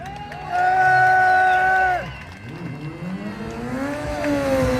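A motorcycle drifts at low speed to warm its tyres, the engine revving up to a sustained high whine, dropping, then climbing again, loud and close, with rear tyre pressure lowered for the drift.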